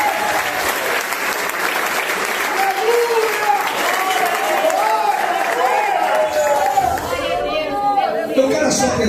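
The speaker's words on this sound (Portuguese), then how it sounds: "Quem crê nesta palavra, bate as palmas para Jesus bem forte." A church congregation claps loudly and continuously for several seconds, a dense roar of applause mixed with crowd chatter and voices throughout.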